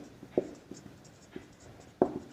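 A pen writing on paper during a commerce profit-and-loss lesson, giving a few soft scratchy strokes and taps spaced irregularly, quiet and close.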